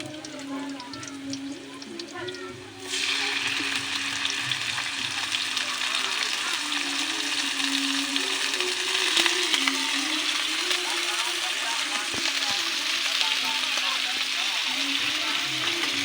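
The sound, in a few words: chicken necks frying and being stirred in pan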